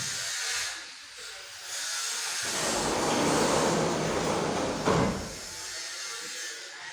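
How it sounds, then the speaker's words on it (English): An angle grinder runs in a workshop next to a house in Malawi, a steady harsh hiss that swells and holds for several seconds before easing, heard from a short distance with no voices. "So the noise that you are hearing is from the grinder."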